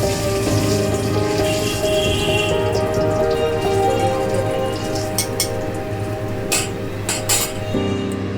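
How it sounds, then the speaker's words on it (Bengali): Asafoetida tempering sizzles in hot oil for a light fish curry, a dense, constant crackle with sharp metallic clinks from stirring near the end. "এর মধ্যে একটু হিং ফোড়ন দিলাম। ফোড়নটা একটু নাড়াচাড়া করে"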